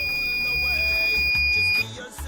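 Microcontroller-based water-saving system in a home shower sounds its alarm, a thin, high, sustained electronic tone held for under two seconds against a background of soft music, then cutting off.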